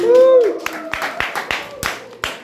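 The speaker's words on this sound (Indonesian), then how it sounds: "Boleh berikan tepuk tangan untuk Tuhan kita." A church congregation claps hands during a service, with distinct separate claps spaced out over a sustained voice and a held musical tone.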